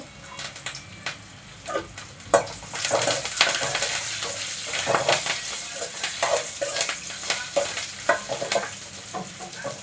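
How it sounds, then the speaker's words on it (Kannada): Dried red chillies and curry leaves sizzle in hot oil in a pan, with stirring scrapes; the sizzle is soft at first and grows louder and busier after a couple of seconds. "ನೋಡ್ರಿ ಒಣಮೆಣ್ಸಿನ್ಕಾಯಿ ಹಾಕೋತಾ ಇದ್ದೀನಿ ಸ್ವಲ್ಪ ಕರಿಬೇವಿನ ಸೊಪ್ಪು"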